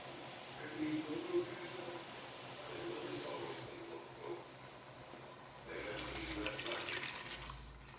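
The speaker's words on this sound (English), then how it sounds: "I'm going to put a little bit of water in here." Tap water running into a pot while making Cajun chicken and sausage gumbo, a steady hissing flow that starts and stops in bursts, close by with no talk over it.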